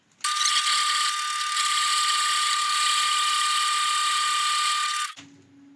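A milling machine runs at 90 RPM while cutting threads, producing a loud, steady high-pitched mechanical whine with a constant tonal hum that starts abruptly, holds for about five seconds, then cuts off.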